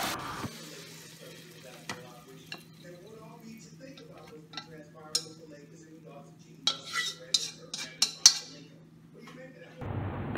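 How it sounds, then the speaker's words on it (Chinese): Braised shrimp are stir-fried in a wok with a soft background sizzle, while a utensil scrapes and clinks against the pan in scattered, close strokes that grow busier toward the end. "这时候要翻炒，当您看到锅中的汤汁变得浓稠了，再焖一会儿就可以出锅了。"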